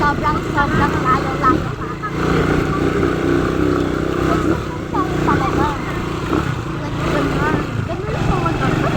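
Motorcycle engine droning steadily throughout a ride toward farmland, with a continuous mid-level rumble and wind under frequent conversation from the riders.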